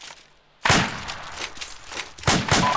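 Gunfire and tracer fire in the Arma military game: after a quiet start, a dense run of cracking shots and bursts at mid distance, loud and continuous, with a few heavier volleys near the end.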